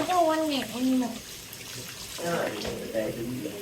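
Water runs from a tap for face washing, a splashing flow heard beneath people talking nearby in a home setting.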